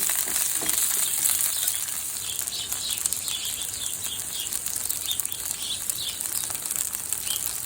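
Chopped onion frying in hot corn oil in a pan, a steady bright sizzle throughout, close and continuous with faint stirring.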